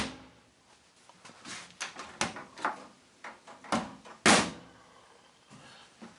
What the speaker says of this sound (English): let's see how nice and quiet the door latch is